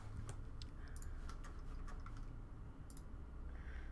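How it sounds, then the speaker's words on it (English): Fast typing on a computer keyboard during a mobile gaming stream, a quick, uneven patter of key clicks close up over a steady background hum. "Can you guys hear me typing still?"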